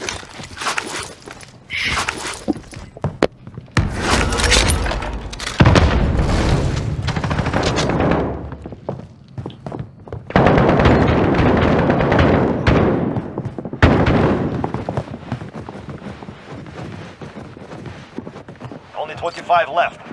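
Loud bursts of automatic gunfire and heavy explosive booms in a shooter video game, coming in waves with pauses, while players talk and shout over the action.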